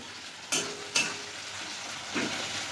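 Chopped tomato tumbling into a pan of frying chicken, with sharp sizzling bursts at each addition over a steady background fry and a softer stir near the end.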